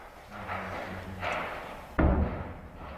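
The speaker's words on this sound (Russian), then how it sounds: "склад боеприпасов украинской армии, которая находилась на территории Донецкого аэропорта" An ammunition depot at Donetsk airport explodes with a single heavy, deep thump that hits sharply and then rumbles away. Before the blast there is quieter background noise and faint activity.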